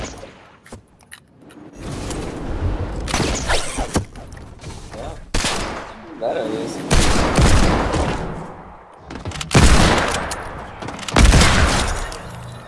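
Pistol gunfire in the video game Fortnite: bursts of sharp shots come in clusters with loud peaks, mixed with crashes, impacts and game noise, and a voice is heard briefly.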